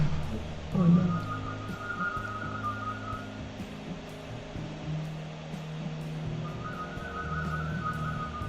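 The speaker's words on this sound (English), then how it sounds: "There's a whistle off happening right now." People whistle against each other in a whistle-off during a live drink-and-draw session in Berlin: sustained tones, one early and one late, over low room hum and a low, brief burst near the start.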